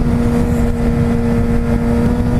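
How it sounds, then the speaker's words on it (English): Los Angeles rush-hour traffic heard from a motorcycle, a dense, steady engine drone and road rumble with a constant low hum, loud and unbroken throughout. "Good old LA traffic."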